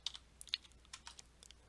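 Someone types a drug name into a search box on a computer keyboard, with a short run of light, irregular key clicks close by and no speech.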